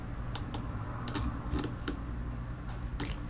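Computer keyboard keys tapped in a sparse, irregular series of crisp clicks, moderately close, over a steady low background hum.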